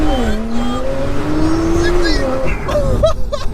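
A 750hp Porsche 911 Turbo S launching hard with traction control off, a loud close engine roar climbing steadily in pitch through acceleration, with excited voices and shouts over it near the end.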